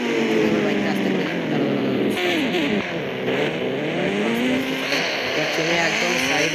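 Motorbike engine in the video game Indian Bikes Driving 3D drones steadily and loudly, its pitch sliding down and rising again like revving throughout.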